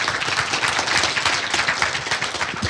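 Audience applause at a comic convention new-talent panel, a dense, steady wash of many hands clapping at close range that keeps going without any talk over it.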